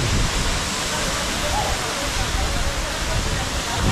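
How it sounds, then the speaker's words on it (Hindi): Steady, full-bodied roar of the Dhareshwar Marleshwar waterfall at a Konkan hillside temple site, a continuous broadband rush of falling water heard close and loud throughout with no break. "आपको धारेश्वर मार्लेश्वर वाटरफॉल के दर्शन कराता हूँ"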